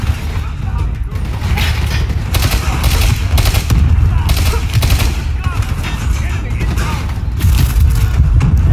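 Dense, continuous gunfire and explosive bursts from a grenade blast in the Black Ops 3 campaign, a loud, sustained barrage of shots and booms with a voice talking over the battle.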